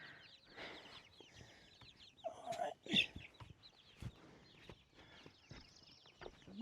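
Hens clucking and squawking in a homestead chicken coop, with scattered close calls and one louder squawk in the middle, fairly quiet overall.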